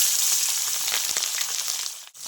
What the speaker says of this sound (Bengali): তেলটা গরম হয়ে গেছে আমি সবার প্রথমে মোড়োটা ভেজে নেব